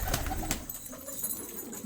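Pigeons coo softly a few times, faint and somewhat distant, with a low background hum.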